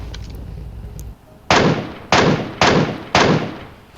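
Four loud, evenly spaced Mk14 rifle shots ring out in the mobile battle-royale game PUBG Mobile, each a sharp broadband crack with a decaying tail, following a stretch of low background rumble.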